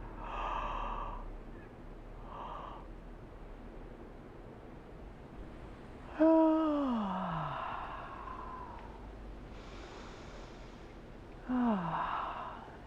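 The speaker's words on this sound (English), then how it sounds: "we're going to try and incite a yawn" During a breathing exercise from a five-element movement form, a person yawns twice, each a long breath that drops in pitch as it ends, heard close and fairly quiet with soft breathing in between.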